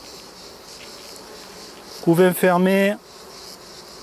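Honeybees on a hive's brood frame give a steady buzzing hum throughout, while a person briefly speaks over it partway through.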